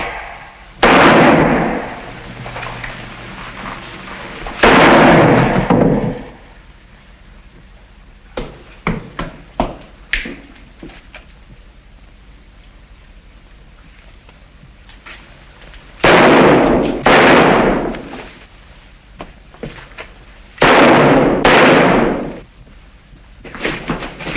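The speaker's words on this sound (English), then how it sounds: "Now, if you stand perfectly still, I think I can manage this with one shot." Gunshot effects in a Sherlock Holmes radio drama: several loud, close bursts ring out alone, spaced across the passage with quieter crackles between them.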